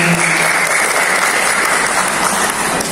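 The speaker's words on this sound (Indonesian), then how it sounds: "Tepuk tangan dulu dong." A hall audience at a regional organisation's inauguration ceremony in Jakarta bursts into loud, dense, continuous applause that holds steady for the whole stretch, with no voices over it.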